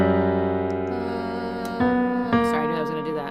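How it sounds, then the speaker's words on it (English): A Phrygian dominant scale plays as a sequence of sustained melodic notes, stepping through with a bright, reedy tone and a drone underneath. "the song skewed heavily towards Phrygian dominant, which sounds like this."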